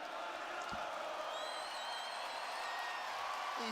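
Arena crowd at a WWE Raw broadcast: a steady, dense roar of cheering and applause with a few high whistles, continuous throughout.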